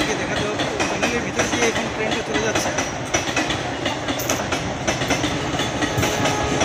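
The Kanchenjunga Sealdah Express, a long passenger train, rolls past on a hilly route near a tunnel at Bogda, giving a loud, steady wheel-and-rail roar with rapid clicks throughout, while someone talks over it at times.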